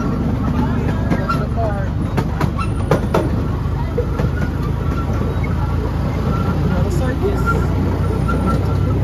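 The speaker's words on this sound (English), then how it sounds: "Step right up and enjoy that greatest little train ride as we now go through the Central Carolina Bank Tunnel" A small park ride train rumbles and clacks through the Central Carolina Bank Tunnel, a steady close roar with scattered clicks and squeaks, while someone talks over it on a loudspeaker.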